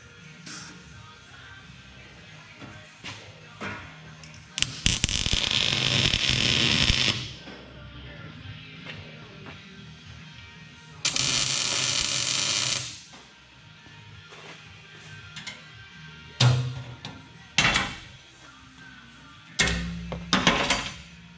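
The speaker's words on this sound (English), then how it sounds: "I'm going to weld it up now" Steel channel being welded onto a dump truck bed, with bursts of harsh crackling buzz lasting a couple of seconds each, separated by quieter stretches of clanks and shop noise.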